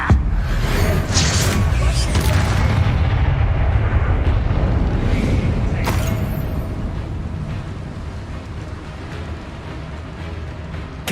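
A fire blast spell in Hogwarts Legacy booms and roars in a dense, loud explosive burst that rumbles on for several seconds, with a sharp crack near the middle before the noise slowly tapers off.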